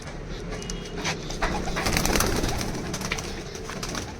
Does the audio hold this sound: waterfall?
no